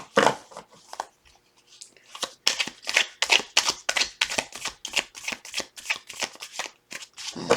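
Tarot cards are shuffled repeatedly, a brisk run of crisp riffling bursts close up after a few scattered handling sounds at the start.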